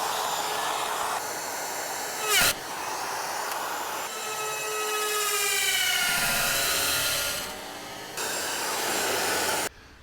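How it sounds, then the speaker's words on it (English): A plunge router cuts out a wooden template for a Marvin door jamb, its motor holding a loud, steady whine for the whole stretch, broken by one sharp burst and small shifts in pitch as it bites the wood. "So I'm going to go ahead and take my plunge router."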